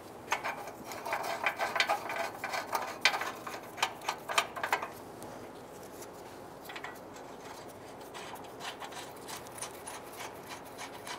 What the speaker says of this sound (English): Use our 18 millimeter socket and wrench. And we'll just tighten those up.